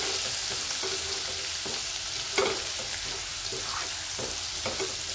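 Garlic sautéing in about two spoons of oil makes a constant close sizzle and crackle, with soft stirring scrapes now and then and no talking.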